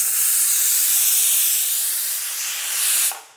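A pressure cooker, taken off the gas after two whistles, lets out a loud, continuous hiss of escaping steam up close that holds steady, then cuts off abruptly at the end.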